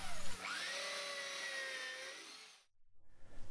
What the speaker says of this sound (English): Having clamped your drilling template onto your post, drill 5mm drill holes to a depth of